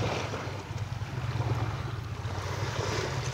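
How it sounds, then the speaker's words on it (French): Wind buffets a furred windscreen on a microphone outdoors by a stony shore, a steady low rumble with surf-like rushing throughout, no voices. "Il y a quand même un vent."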